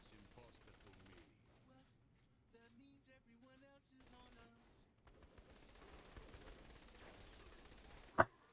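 Shotgun fire in the video game Saints Row The Third: faint, scattered gunfire sounds under game audio and talk, ending in one sharp, louder shot.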